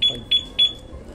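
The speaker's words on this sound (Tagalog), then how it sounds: "Ay, nag-alarm ito." Yamaha Fazzio scooter alarm giving three loud, short electronic beeps in quick, even succession, close by.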